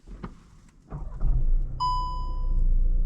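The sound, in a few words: Volkswagen Passat B9 car starting, with warning beeps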